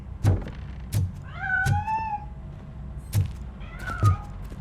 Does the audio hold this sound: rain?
no